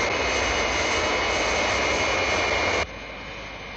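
An airplane engine drones steadily in flight, a loud, even roar that holds throughout, then drops slightly in level near the end, as in an audio drama sound effect.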